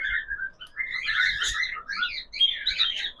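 Cockatiels in a breeding cage with eggs and chicks chirp in quick overlapping calls, bright and fairly close, with no voices over them.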